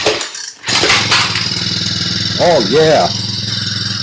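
A small engine rebuilt with a Walbro carburetor starts and runs at a steady, buzzing idle, loud and close. The revs briefly rise and fall partway through, and someone speaks a few words over it.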